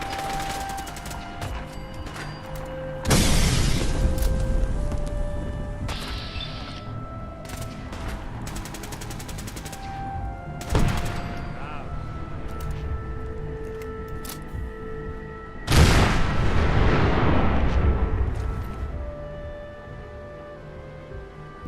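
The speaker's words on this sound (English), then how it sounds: "that explosion had just advertised our presence in the area" Explosions and gunfire in the game Fallout 4, set in the ruins of Boston: three heavy booming blasts spaced several seconds apart, with sharp shots, mechanical clatter and tonal game sounds between them, and no voices.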